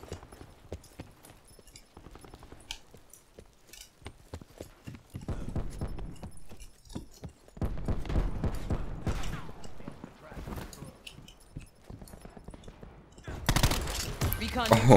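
Gunfire in the video game Black Ops 4, rapid bursts of shots that grow denser and louder, broken by quieter stretches of clicks and taps, with a voice talking at times.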